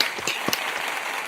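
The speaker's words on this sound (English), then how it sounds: "let's give him a round of applause" A brief burst of audience applause at a talk on global jobs for African talent: a moderately loud patter of clapping hands with a few sharper individual claps.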